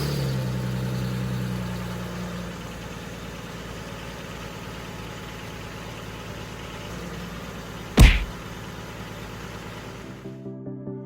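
A Chevrolet Trailblazer engine idles steadily after a power steering pump replacement, a smooth even hum with no whine, broken once by a short loud clunk before it cuts off near the end.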